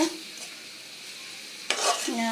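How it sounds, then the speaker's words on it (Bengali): Spices frying in oil in a pan until reddish: a steady close sizzle with a burst of louder crackling and a stirring scrape near the end, no talking. "চামচটা আমি ভালো করে ভাজা ভাজা করে লাল লাল করে নেব"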